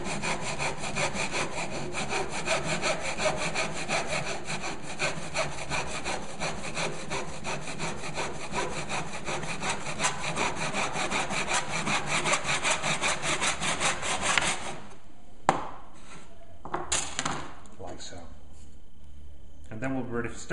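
A hand saw cuts through wood held tight against a bench hook in a school design and technology workshop, giving steady, close, rhythmic rasping strokes that run continuously, then stop and leave a few scattered knocks.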